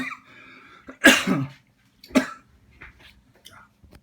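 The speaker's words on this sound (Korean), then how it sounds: "아직도 기침이 한 번씩." Two sharp coughs about a second apart, close by, followed by a few soft breaths and small mouth noises in an otherwise quiet room.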